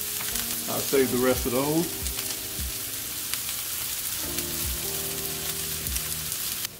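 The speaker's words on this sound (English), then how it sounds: "I'm going to caramelize my onions." Onions, one cup, sizzling as they caramelize in a pan. A continuous close sizzle runs under a brief spoken remark and a few utensil clinks and knocks, staying steady to the end.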